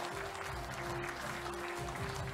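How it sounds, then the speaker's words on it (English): Audience applause at an event with moderators and speakers, a dense steady clapping from a crowd filling the room, fairly faint and even throughout. "please give a big round of applause to our moderators and speakers"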